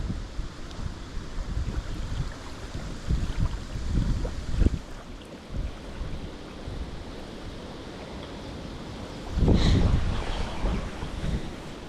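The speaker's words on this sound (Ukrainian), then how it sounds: "Погода тільки погіршується, сильний вітер." Strong wind gusts roar and buffet the microphone in low rumbling surges, rising sharply near the end, with a faint watery wash underneath.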